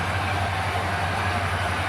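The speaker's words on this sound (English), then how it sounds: "It's been running for 15-20 minutes now and haven't had a train wreck yet." A model train running steadily on the Granite Gorge and Northern layout, with a continuous close rolling rumble and faint rail clatter, alone and unchanging.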